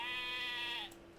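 Sheep bleating in the Lego Worlds video game: a single long, steady, wavering bleat, loud and close, that cuts off near the end and leaves quiet behind it.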